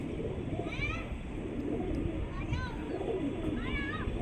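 Domestic pigeons kept by an Old City pigeon fancier coo softly up close, with a few short chirps. People talk nearby.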